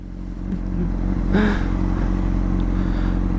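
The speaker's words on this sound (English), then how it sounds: "It's a CBR 600 Honda." A Honda CBR 600 motorcycle engine running nearby, a steady loud rumbling idle that rises slightly in a brief rev before settling back, with no voices.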